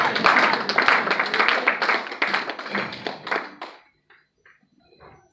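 A church congregation at a ministers and leadership conference in Italy claps together in dense, steady rhythm, loud and close, before the clapping trails off into quiet near the end.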